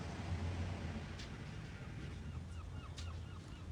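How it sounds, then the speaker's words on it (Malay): Continuous surf from a GarageBand beach ocean-waves sound effect, a dense hiss of rolling water with faint higher calls scattered through it, steady and fairly loud. "Untuk ombak pantai."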